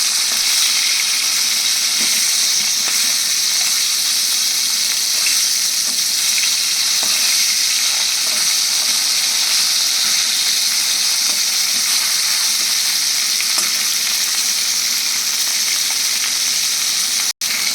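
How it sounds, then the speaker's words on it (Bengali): Pieces of katla fish fry in hot oil in a pan as they are turned, a loud, steady, dense sizzle that holds without a break for the whole stretch, with no voices. "এবার মাছগুলোকে ভালো করে ভেজে তুলে দেখো মাছগুলোকে এবার আমি আর উল্টে দিচ্ছি"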